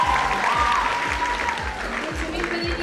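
Audience applause at a school freshman ball at Liceul Spiru Haret in Moinești, a dense steady patter of many hands with a low thumping beat and a faint voice underneath.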